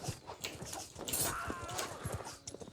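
Mounted horse archers gallop in Mount and Blade, a rapid, dense drumming of hooves amid battle noise, fairly close and continuous with no talk over it.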